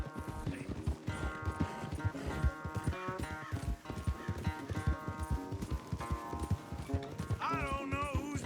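Horses gallop in a race in Red Dead Redemption 2, a steady clip-clop of hooves running under loud game music throughout.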